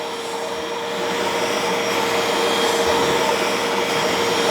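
Bissell Little Green portable carpet spot cleaner suctioning ketchup from carpet, a steady loud close-up motor whine that rises slightly and holds without pause, no voices.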